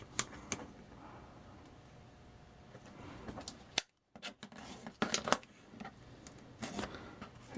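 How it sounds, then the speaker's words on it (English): A board for a homemade dry-erase board is cut in half lengthwise with scattered sharp snips and cutting clicks, faint and irregular, with a brief silent pause midway. "I'm going to cut it in half lengthwise"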